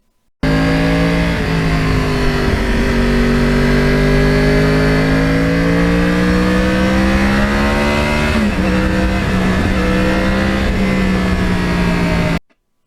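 A Yamaha R1 crossplane motorcycle engine running loud and close for about twelve seconds, a deep, uneven rumbling idle with blips rising and falling in pitch.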